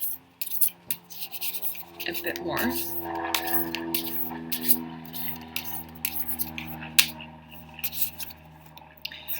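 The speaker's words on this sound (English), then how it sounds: "So let's shuffle here" Tarot cards are shuffled by hand in a quiet room, giving soft riffling, rubbing and slapping bursts at close range, intermittent and under a person speaking quietly.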